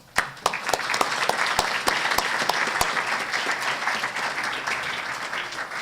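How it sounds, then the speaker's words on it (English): An audience gives a round of applause for a panel at the close of an event, a sustained wash of many clapping hands with a few sharp, distinct claps standing out near the start. "please join me in a round of applause and thanks for our panelists"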